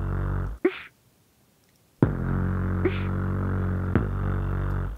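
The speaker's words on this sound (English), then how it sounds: "And so the beatbox by itself without trap drive sounds like this." A beatbox drum sample without Trap Drive distortion: a deep, booming bass-heavy hit, a short gap of silence, then another long sustained low boom with quick clicky snaps on top, close and dry.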